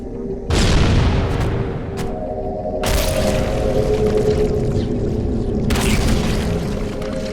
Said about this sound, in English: there you get an example of a carrier form explosion blowing up grenades